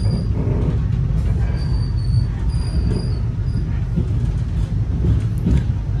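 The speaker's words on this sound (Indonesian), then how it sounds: "Jalur 1 ini ada kereta" A Serayu passenger train at Purwokerto station, running from Purwokerto to Pasar Senen, gives off a steady low rumble and rolling wheel noise with faint high squeals, loud and continuous throughout.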